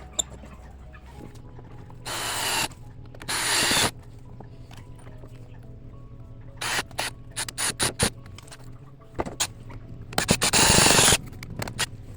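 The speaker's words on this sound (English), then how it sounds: "Now I'll run my screws in." A cordless drill drives leftover deck screws into scrap lumber for a deck table, with several loud whirring bursts of a second or two each, separated by quieter pauses and short clicks, close by.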